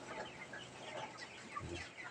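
Chickens raised for meat cluck softly and continuously in a quiet pen, with small scattered calls overlapping at low volume and no voices.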